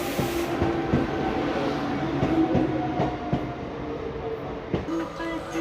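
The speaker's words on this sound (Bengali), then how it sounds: "চলে এলো আমাদের ট্রেন, হাওড়া আরামবাগ লোকাল" A Howrah–Arambagh local train pulls into the station with steady rumbling wheel noise, a few sharp clacks over rail joints and a faint squeal, loud and close throughout.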